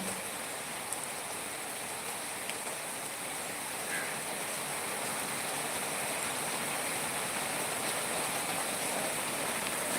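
Heavy rain falls in a steady, dense hiss that stays even and loud throughout, with no voices over it.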